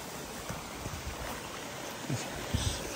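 A small waterfall and stream at a rural site in Guaraciaba do Norte, Brazil, give a constant broadband wash of running water with a few faint splashes and bumps near the end, no talk.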